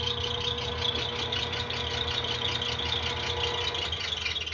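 A homemade coil winder built from scrap and driven by a blender motor runs at speed, giving a steady, even mechanical whir with a faint rattle, close by and continuous.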